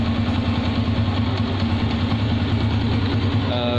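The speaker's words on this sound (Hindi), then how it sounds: "तो चलें बाइक को आपको स्टार्ट करके दिखाते हैं और बताते हैं कि अब इसकी कैसे साउंड" A motorcycle engine idles close by, a steady low rumble with an even pulsing throb and no talk over it.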